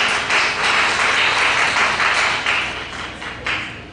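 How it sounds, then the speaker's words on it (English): Audience applause at a gathering of Kenyans in Arizona, USA: a dense patter of hand claps sustained for about four seconds, fairly loud and close, easing slightly toward the end. "Let's give her a mighty clap for that introduction."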